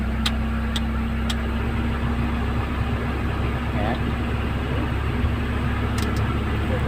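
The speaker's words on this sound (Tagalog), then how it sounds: "napaandar na natin yung kanyang makina mga guys." A 1995 Honda Accord engine idles with the air conditioning and blower running: a constant mid-low hum with a steady drone and a few sharp clicks, heard close and continuous.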